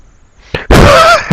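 Firecrackers set off during a Lunar New Year gathering: a single sharp pop, then a loud, dense burst of crackling bangs that fills the rest of the moment, close and intense.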